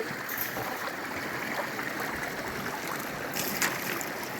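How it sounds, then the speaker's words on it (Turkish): Water is poured and trickles steadily over gravel and sediment while panning for gold outdoors, a continuous soft wash close by with no voices. "Su dökelim böyle."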